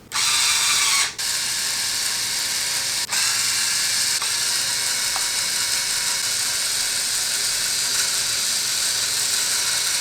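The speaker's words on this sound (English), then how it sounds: "let's unwind these strings" A string winder spins tuning pegs to unwind the strings on a Charvel Pro Mod San Dimas electric guitar, giving a steady, close ratcheting whir that runs continuously with a couple of brief pauses.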